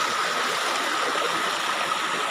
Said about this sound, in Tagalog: Tingnan nyo naman guys kung gaano kataas ang talon.